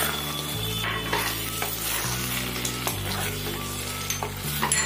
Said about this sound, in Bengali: আবারও নেড়ে নেব ভালো করে